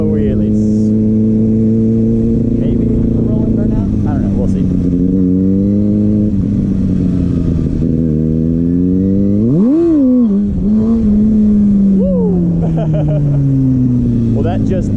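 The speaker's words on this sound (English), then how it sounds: "let's do a couple of wheelies. Maybe a rolling burnout?" A Kawasaki ZX6R motorcycle engine, loud and close, revving up and down through repeated rising and falling sweeps as it pulls wheelies and a rolling burnout, with a sharp surge near the middle.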